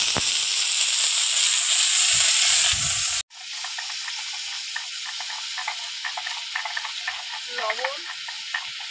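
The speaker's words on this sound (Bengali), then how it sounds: "এবার পেঁপে আর কুলপি শাক দিয়ে দেবো।" Papaya and kulekhara greens are added to hot oil and stirred in a home kitchen. A loud hiss gives way to a steadier sizzle with scraping stirs and soft crackles.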